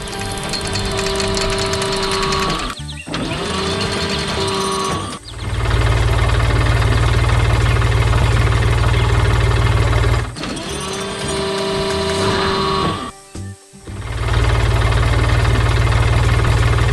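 A blue tractor engine running hard in a flower garden, a loud steady mechanical drone with strong low rumble that cuts out briefly twice and resumes, close and continuous throughout.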